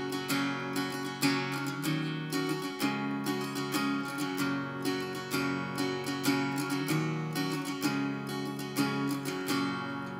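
Strummed acoustic guitar chords repeating in a steady rhythm, close and moderately loud, with no voices.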